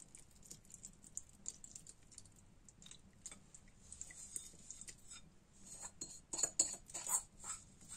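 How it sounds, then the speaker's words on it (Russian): Sweet yeast dough for rose-shaped buns being mixed in a bowl: soft, irregular scraping and tapping of a utensil against the bowl, quiet and close, growing busier toward the end, with no talking. "И замешиваем тесто, как обычно."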